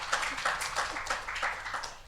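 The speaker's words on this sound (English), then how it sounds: "Someone was clapping" Someone claps steadily at an event, a run of evenly spaced, moderately loud hand claps heard close by with no voices.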